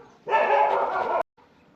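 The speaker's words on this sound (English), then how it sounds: "I've chosen the road with loads of dogs again." One dog on a road gives a single drawn-out bark, close and loud, then stops abruptly, leaving quiet background.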